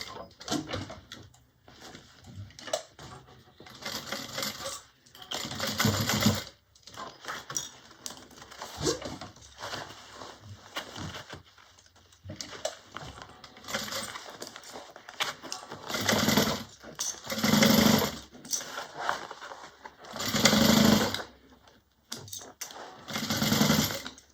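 A sewing machine stitches a curved seam on a bag at a 5/8 seam allowance, running in repeated bursts of fast whirring with short pauses between runs.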